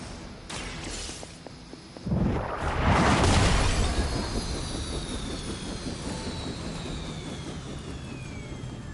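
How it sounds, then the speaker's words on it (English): A helicopter in the video game Marvel's Midnight Suns roars with a swelling rush that rises sharply, then holds as a loud, steady engine drone with a falling whine. "We have to stop that helicopter."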